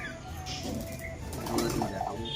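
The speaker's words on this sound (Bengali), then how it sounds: "ভালো করে আমাদের নতুন পায়রাগুলো এখন দেখো" Pigeons coo softly nearby with a brief flutter of wings, quiet and close.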